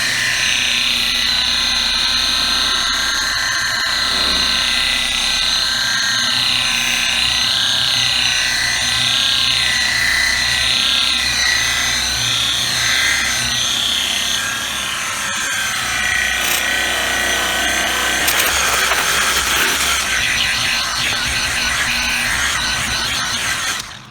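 A DeWalt single action buffer held flat polishes car paint with a continuous, loud whirring drone whose pitch wavers and rubs against the surface for the whole stretch, with no one talking.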